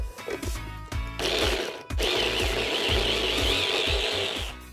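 A food processor grinding curry ingredients with a little rice oil: a loud, close, steady motor whir with rhythmic chopping pulses, stopping and starting briefly before running on continuously.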